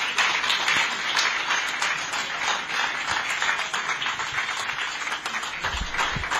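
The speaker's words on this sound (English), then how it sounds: "Why can't we clap?" Steady, dense applause from a crowd at a government flag-off ceremony, sustained throughout without pauses, with no talking over it.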